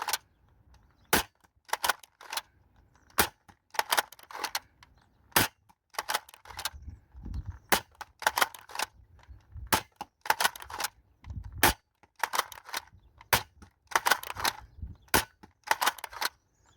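Dart Zone Stryker blaster firing foam darts, a string of sharp close cracks in quick irregular bursts, about thirty shots with short gaps and no talk.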